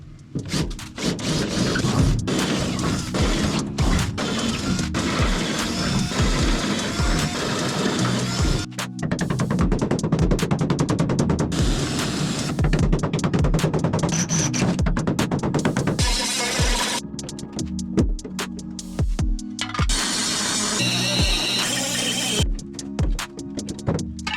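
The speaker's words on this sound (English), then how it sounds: "These are actually really large spot welds compared to everything else, so I needed a bigger bit" A drill bores out large spot welds in a Datsun 280z body, giving a loud, sustained grinding whine in long runs, broken by short pauses and rattling bursts.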